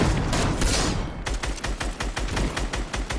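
Gunfire in a video game shooter: a dense burst of overlapping shots gives way to a rapid, evenly spaced string of loud reports, with no talk over it.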